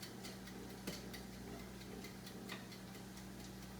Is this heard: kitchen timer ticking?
yes